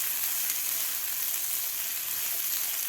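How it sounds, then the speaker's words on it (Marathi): Bell pepper (capsicum) frying in a pan while cooking for hara bhara veg kabab cutlets, giving a steady, close, continuous hissing sizzle that holds evenly throughout with no voices. "ते सुद्धा आपल्याला व्यवस्थित 2 मिनिट शिमला मिरची सुद्धा व्यवस्थित फ्राय करून घ्यायची आहे"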